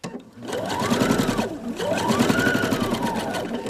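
A sewing machine runs steadily while back stitching a dress waistline, with a continuous close mechanical whir that dips in pitch once midway as the stitch reverses.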